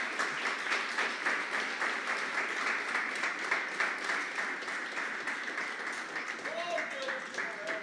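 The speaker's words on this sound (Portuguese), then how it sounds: "Aplauda ao Senhor Jesus nessa noite." Church congregation applauding during an evening service, a sustained, moderately distant patter of many hands clapping, with a brief voice near the end.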